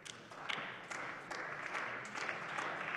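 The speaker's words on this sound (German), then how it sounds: "ich freue mich über den Applaus" Applause from members of a parliament chamber, a dense, steady crackle of many hands clapping that fills the whole stretch at moderate loudness, with no one speaking over it.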